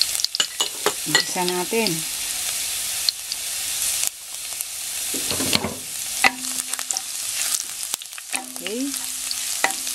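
Garlic sautéing in a tablespoon of cooking oil in a pan, crackling and sizzling up close while a spatula stirs and scrapes, with a brief spoken remark over it.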